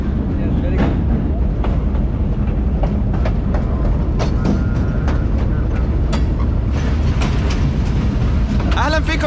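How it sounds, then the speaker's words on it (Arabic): Train in Bangladesh bound for Dhaka, a loud continuous rumble of carriages with rattles and clanks, voices talking over the din throughout. "So this train is going to Dhaka?"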